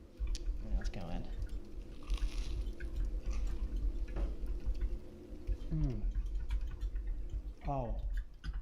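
A crunchy grilled cheese sandwich is chewed close to the microphone. Repeated moist crunching bites run through the clip, with a voice speaking in between and over it.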